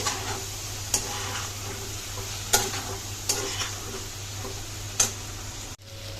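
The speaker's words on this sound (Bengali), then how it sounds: "এবার একসঙ্গে খুব ভালো করে বেশ কিছুক্ষণ ধরে সময় নিয়ে কষাতে হবে।" Taro stolons and potatoes are stirred in a pan over low gas, with a steady sizzle underneath and a few sharp scrapes and knocks of the spoon at irregular intervals. No one speaks.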